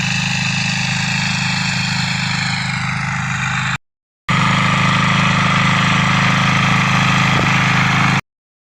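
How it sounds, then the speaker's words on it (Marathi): A tractor engine runs steadily and loudly close by on a farm at sowing time, with a constant low drone and rattle, a brief cut in the middle, then the same heavy idle-like chug resuming without voices. "ट्रॅक्टर"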